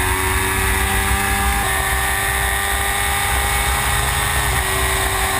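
A Formula Gulf race car accelerates out of a corner on track, a loud steady high-pitched engine whine with a sustained droning tone that shifts pitch midway, and no talk over it.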